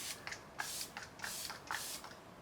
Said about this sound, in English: And last one up is the Impeccable setting spray.